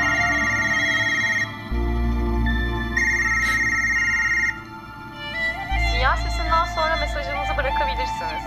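A phone rings in a Turkish-language TV drama scene, with repeated electronic ring tones in bursts and a voice speaking between and over the rings.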